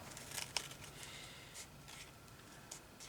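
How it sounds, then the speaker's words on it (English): Scissors cut through cardboard packaging in a quiet room, giving a couple of faint, crisp snips early on, followed by soft rustling. "I'll take the scissors and just cut up there now."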